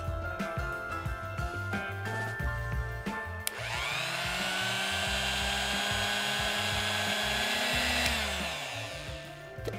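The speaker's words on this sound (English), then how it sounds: "And now let's grind this into a paste." An electric mixer grinder whirs as it blends soaked moong dal into a smooth paste for dhokla, a loud, steady high-pitched motor whine after a brief clattering start, running for several seconds before spinning down.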